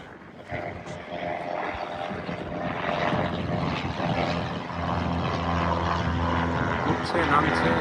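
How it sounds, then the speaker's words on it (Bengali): A propeller airplane moves along the ground at Jandakot Airport, its engine drone swelling steadily from moderate to louder and nearer, with someone talking over it. "এখানে প্লেনটি এখানে আগাচ্ছে।"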